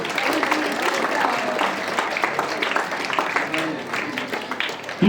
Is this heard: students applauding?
yes